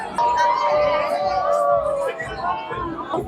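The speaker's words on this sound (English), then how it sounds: "Lot of crowds, okay." Crowd chatter at YouTube Fanfest 2025, a close, busy murmur of many voices mingled with louder nearby talk and occasional higher excited calls, steady throughout.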